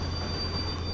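A subway train rolls into a platform in a late-night station horror game, a steady low rumble of wheels with a faint high squeal running throughout, close and continuous.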